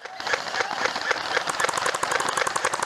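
Airsoft guns fire in rapid bursts at an outdoor attack-and-defend game, rattling full-auto strings that grow into a steady, fast clatter of close shots.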